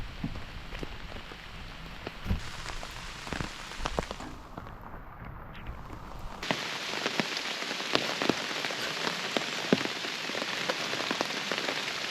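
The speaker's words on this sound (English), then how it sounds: "because it's raining" Steady rain pattering on a surface in Arkansas, with scattered louder drops; the downpour grows denser and brighter partway through and continues without talk.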